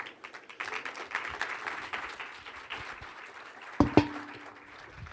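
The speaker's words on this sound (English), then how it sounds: "he deserves a round of applause for that" An audience at the CoMotion Miami 2023 conference claps steadily in a dense patter of many hands, with a sharp knock near the end as the applause carries on.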